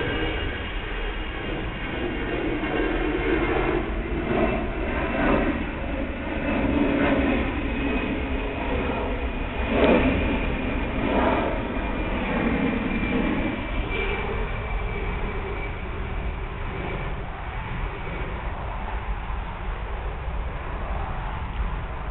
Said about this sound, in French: c'est un avion qui passe